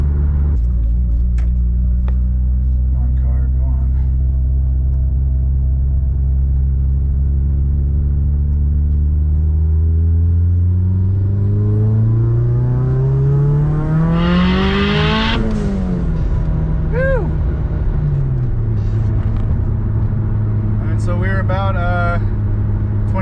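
A tuned Mitsubishi Evo on a stock-block 6466 turbo pulls hard, its loud engine note climbing steadily through the revs to a peak, then a quick shift or lift with turbo flutter and chirps.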